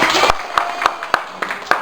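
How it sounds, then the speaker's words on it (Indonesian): Audience applause at a health education session for mothers on diarrhea, with a short burst of clapping followed by a few sparse, separate claps. "Tepuk tangan."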